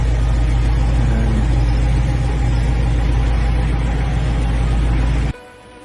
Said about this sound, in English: It started finally, and it sounds pretty good. The little Toyota motor sounds good.